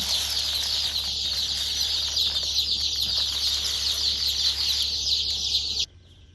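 A large flock of newly arrived chicks peeps nonstop in a brooder pen made from big egg crates. The shrill, dense chorus is close and constant, then stops abruptly near the end.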